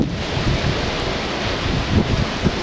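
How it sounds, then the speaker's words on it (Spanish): Very strong wind blasts steadily outdoors, a dense, loud roar with gusting swells that fills the whole clip, with no voices heard. "me voy con este viento súper poderoso"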